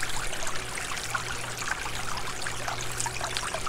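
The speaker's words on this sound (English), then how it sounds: "A water fountain." A park water fountain in the Stardew Valley video game trickles steadily, a soft, continuous splashing and dribbling at low volume with a faint hum beneath.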